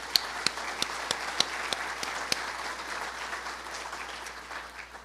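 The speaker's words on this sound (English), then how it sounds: "A quick round of applause" Brief round of applause from the audience at an Indigenous cleaner energy forum, scattered distinct claps over a soft wash of crowd clapping that fades out toward the end.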